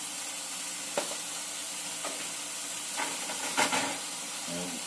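Onions frying in a non-stick skillet give a continuous hiss and sizzle, broken by a few short louder bursts of spatter and stirring, close and moderately loud.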